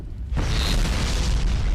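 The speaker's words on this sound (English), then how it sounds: "Something exploded. Yeah, I just heard an explosion." A loud explosion bursts suddenly in Bayonetta, a sharp onset followed by a sustained roaring, crackling rumble that fills the rest of the moment.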